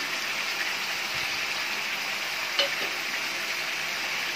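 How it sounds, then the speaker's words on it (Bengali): Chicken pieces frying in a pan for a light chicken curry as ground spice paste goes in, giving a steady close sizzle with a brief soft clack partway through and no voices. "মাংসটা এখানে ভাজা হয়ে গেছে, এরপর আমি দিয়ে দিচ্ছি বেটে রাখা মশলাগুলো"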